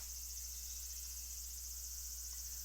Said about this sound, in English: I hear cicadas in the background